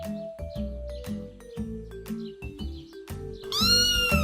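A cat meows, a drawn-out, wavering cry rising clearly at the end over a steady musical background with soft plucked notes.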